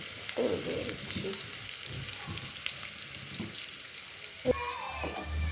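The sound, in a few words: frying onion in oil for cauliflower mustard curry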